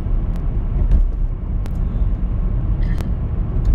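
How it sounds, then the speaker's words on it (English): A car drives along a country road through the Cotswolds in Gloucestershire, heard from inside as a loud, steady low engine and road rumble with a few faint clicks. "We're driving now towards the Severn Valley"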